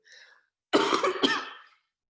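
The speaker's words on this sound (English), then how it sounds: "Just have a little cough." A short burst of throat clearing or coughing, close and fairly loud, preceded by a faint hiss.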